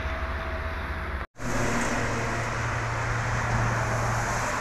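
Loud, steady highway roar with a deep engine drone as a heavy Scania K410IB double-decker bus passes on an Indonesian toll road, briefly cut to silence near the start.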